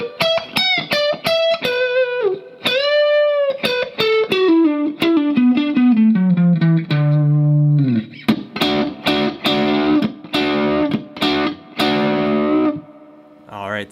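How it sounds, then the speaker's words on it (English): Electric guitar with overdrive and effects playing the closing phrases of a song's second solo: quick picked notes, a long sustained bend, descending runs and a final flurry of repeated notes, loud and without talk. "recapping the final 3 phrases for this solo"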